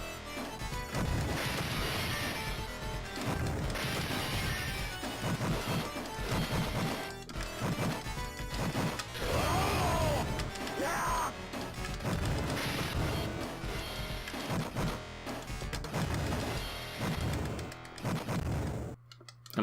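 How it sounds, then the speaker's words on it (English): Glass shatters again and again in the Final Fight arcade beat-'em-up, with dense crashes and whacks layered over loud, continuous game music and effects, and no talking. "Why are we smashing glass again?"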